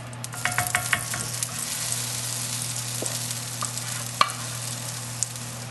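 Spoonfuls of corn cake batter fry in bacon fat in a Le Creuset skillet, giving a steady close sizzle over a low hum, with a few light taps and scrapes scattered through.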